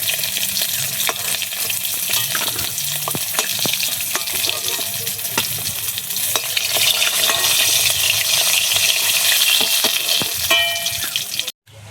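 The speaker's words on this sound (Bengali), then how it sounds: "মাছটা লাল লাল করে ভাজা হয়ে গেছে" Pieces of katla fish frying in hot oil, a loud continuous sizzle with frequent crackles and pops and occasional utensil clicks, ending abruptly.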